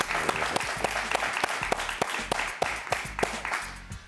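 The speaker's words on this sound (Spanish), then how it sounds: "Un aplauso para Custo Dalmao, por favor." A television studio audience claps for Spanish designer Custo Dalmau after his interview, with loud, sharp, rhythmic claps sounding together over a steady wash of applause.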